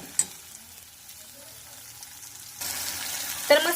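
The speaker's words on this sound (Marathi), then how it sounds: "याला छानपैकी असं फ्राय करून घ्यायचं आहे" Masala paste for a chicken curry frying in a pan: mostly quiet at first, then a louder, steady broadband sizzle takes over for the last second or so, with a sharp clink near the end.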